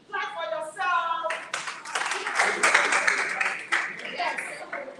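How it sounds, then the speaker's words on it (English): An audience claps in a clear burst of many hands, coming in after a few shouted voices and going on steadily, fairly near, with voices calling over it. "Clap for yourself!"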